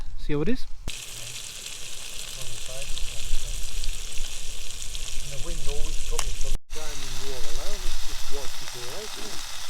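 Tuna coated in a chili, salt, crushed bay leaf, fennel and coriander crust fries in a pan at a windy wild camp in the Cheviot Hills, Northumberland, a loud steady sizzle under gusting wind while someone talks over it.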